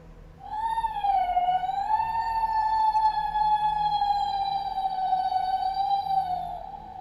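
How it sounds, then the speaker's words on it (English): A blood-curdling howl for a creature called a Voonith, a Sirenscape effect rendered as one long, steady, wavering tone with rich overtones, siren-like and close, holding for several seconds alone with no voices. "we found out exactly what Vooniths sound like when they make their quote-unquote, this is straight out of the lore, blood-curdling howl"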